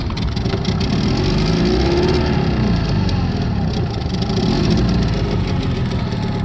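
A four-stroke outboard boat motor idles steadily and loudly close by, with a constant rough drone that swells slightly now and then.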